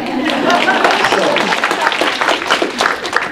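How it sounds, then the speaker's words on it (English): An audience claps in a lecture hall on innovation, a brief burst of applause that fills the room for a few seconds, with no voices over it. "So you should clap right here."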